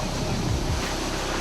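Heavy surf pounding at Bronte beach in dangerous, rough swell, a steady loud roar of breaking waves and rushing water with wind buffeting the microphone throughout.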